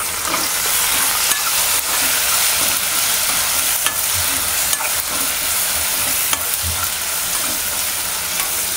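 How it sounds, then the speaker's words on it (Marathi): Malvani masala, turmeric, coriander-cumin powder and salt fry in oil in a pan for bhindi masala, giving a loud, steady sizzle with occasional spatula scrapes and clicks close by. "मसाले चांगले आपल्या तेलात परतून झालेले आहेत."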